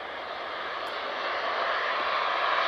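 A TUI airliner arrives at Manchester Airport, its distant jet engines giving a soft, steady whooshing rumble that swells slightly over a few seconds, with no voices.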